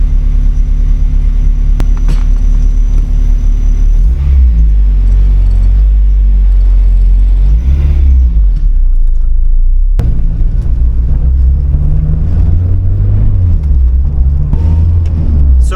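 An Acura RSX running on E85 drives down the street, its engine a loud, close low rumble that rises and drops through gear changes and accelerations, with no talk over it.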